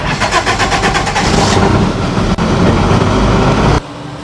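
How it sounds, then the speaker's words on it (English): A hovercraft's CAM 100 engine, a modified Honda Civic 1500cc automotive unit, cranks with a rapid stuttering rhythm, then catches and roars steadily up close before cutting down sharply near the end. "The engine is a CAM 100, which is a modified Honda Civic 1500cc automotive engine."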